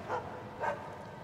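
A dog barks twice in a video game, Assassin's Creed Chronicles China, two short muffled woofs about half a second apart over a low background hum.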